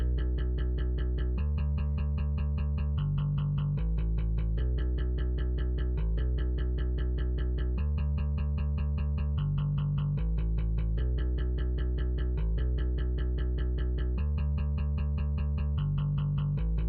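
A synthetic bass guitar sound in a dance track remix plays a loud repeating riff with a steady pulsing pattern, dense and continuous throughout, with no voices.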